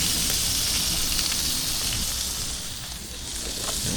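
Burgers and sausages sizzle on a flat Blackstone griddle, giving a steady, dense hiss of frying fat that carries on unbroken and fairly loud throughout.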